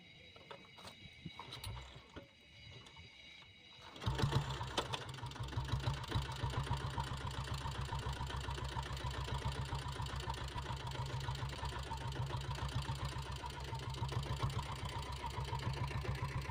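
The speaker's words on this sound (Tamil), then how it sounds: "வாங்க இந்த வண்டியை ஸ்டார்ட் பண்ணி பார்க்கலாம் வாங்க" A diesel Royal Enfield Bullet motorcycle engine idling, a steady close thumping putter that rises to a fuller, louder level after a few seconds and then keeps an even rhythm.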